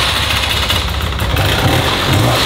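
A two-stroke Scrambler 400 utility quad engine idles close by, a steady buzzing, slightly rough drone with no talking.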